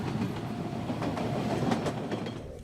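The Madaraka Express train runs between Nairobi and Mombasa with a steady rolling rumble and faint rhythmic clatter of the wheels. The sound is continuous and moderately quiet, with no talking.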